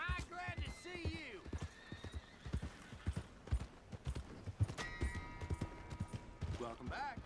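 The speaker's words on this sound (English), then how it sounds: "Hey! My horse!" A Western open-world video game horse snorts and neighs repeatedly at close range while its hooves clop and shuffle in uneven steps, with faint creaking of tack between the calls.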